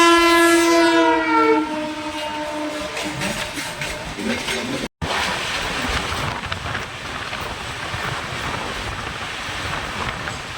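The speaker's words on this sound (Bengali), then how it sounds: "আমাদের ট্রেন এই মুহূর্তে এসে পৌঁছেছে তার যাত্রাপথে 3 নম্বর স্টেশন দুর্গাপুর" Mithila Express 15233 arriving at platform 3 of Durgapur station, its horn sounding loudly at first and then giving way to a steady rolling rumble of the coaches as the train pulls in.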